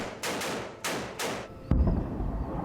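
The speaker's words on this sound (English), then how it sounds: "Overseas tonight into Ukraine now, and to an eruption of gunfire." Gunfire in Ukraine war news footage: three sharp reports in quick succession, then a louder, heavier boom with a lingering low rumble.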